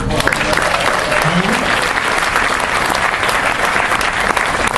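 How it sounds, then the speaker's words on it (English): Audience at a comedy show in Sun City, Indio applauds steadily for Ronnie Kenny, a dense and loud roar of clapping that holds evenly from start to finish. "How about another round of applause for Ronnie Kenny."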